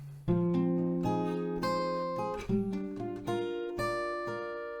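Single acoustic guitar notes plucked one after another from a chord, ringing clearly and overlapping at a steady, unhurried pace.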